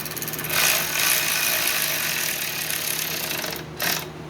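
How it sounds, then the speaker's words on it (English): A hand ratchet tightens a fitting in a tight spot on a Coleman Powermate 2000 PSI pressure washer, giving bursts of quick, close clicking separated by short pauses. "Use the old ratchet to get it in there."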